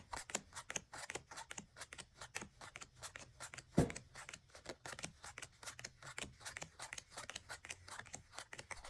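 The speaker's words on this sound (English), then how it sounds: "deal it into two separate piles on the table, alternating cards as they go" Playing cards dealt one by one onto a table into two alternating piles, a rapid, even run of soft snaps and flicks, close and continuous throughout.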